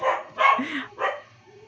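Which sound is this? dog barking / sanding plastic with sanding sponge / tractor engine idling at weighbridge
dog barking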